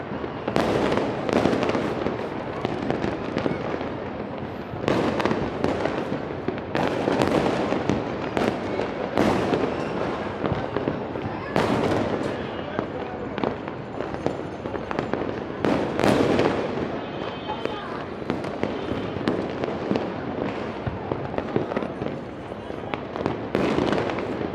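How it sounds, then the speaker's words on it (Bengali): New Year's Eve fireworks burst across Dhaka city, heard from a rooftop as a long, dense run of loud crackling explosions and booms, some near and some distant, with people talking underneath. "সারা ঢাকা শহরে শুধু আতশবাজি ফুটছে।"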